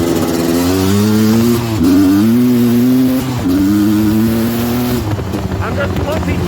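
A Suzuki LT250R ATV engine buzzes loudly while riding, its pitch rising and falling in short surges as the throttle is worked without being revved out, with wind noise toward the end.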